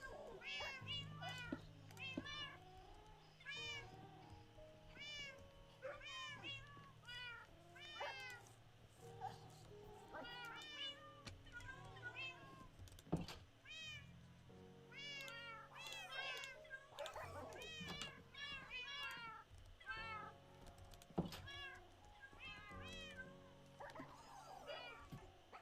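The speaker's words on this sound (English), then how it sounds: "How would this character actually ever sleep with all of the cat noises?" Several cats meow repeatedly in the Minecraft video game, overlapping high mews coming in steady bursts over a low continuous game background hum, with occasional sharp clicks.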